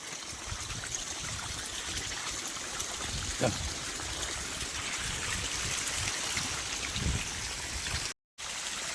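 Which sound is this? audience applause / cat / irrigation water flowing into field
irrigation water flowing into field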